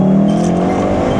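A VW Golf 7.5R with an APR Stage 1 tune, set to race mode and dropped a gear, accelerates with a loud, close, rising engine roar heard from inside the car.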